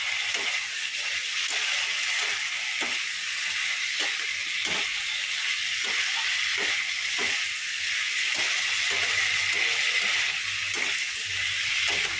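A gas stove burner under a pot of hot water gives a steady, loud roaring hiss, joined by faint regular ticks or taps from the kitchen throughout.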